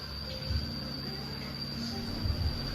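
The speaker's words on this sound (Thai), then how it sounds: "ได้ยินแต่เสียงจิ้งหรีด เสียงจักจั่นนะครับ" Crickets and cicadas chirp continuously at a roadside coffee shop beside Highway 11 in northern Thailand, a high steady insect drone over a low rumbling background, with no talking.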